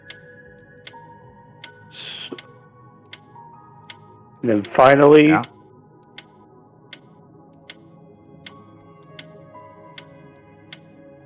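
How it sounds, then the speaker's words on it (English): A mechanism in the We Were Here Together video game ticks in sharp, evenly spaced clicks. A voice briefly speaks over the steady ticking, and one louder burst of sound interrupts it midway. "So it actually makes a different type of ticking sound."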